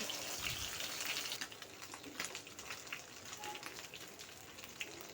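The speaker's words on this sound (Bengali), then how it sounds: "আমি কিন্তু মাছগুলো আবার একটু ভেজে নিচ্ছি" Fish sizzling as it fries in oil in a home kitchen pan, ahead of a bitter gourd curry: a steady, dense crackling hiss with sputtering pops, close and continuous throughout.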